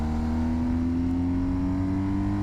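A motorcycle engine held in second gear revs as the throttle is rolled on, a close, steady, loud drone whose pitch climbs slightly, with no voices.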